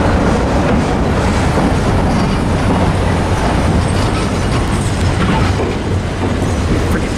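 A Pacific Harbor Line locomotive shoves a string of container cars backwards, producing a steady, loud, dense rumble of rolling rail wagons that holds without a break from start to finish.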